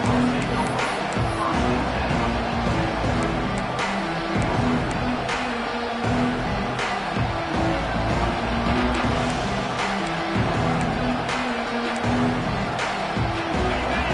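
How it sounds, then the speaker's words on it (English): Football stadium crowd keeps up a steady, loud roar of chatter and cheering through the whole stretch, with no single voice standing out. "This crowd bringing the energy and noise early."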